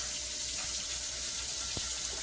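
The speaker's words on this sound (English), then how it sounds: "Now I'm just going to come under the water," Tap water runs in a steady, close rushing stream over a sanded wine tumbler, with a brief knock partway through.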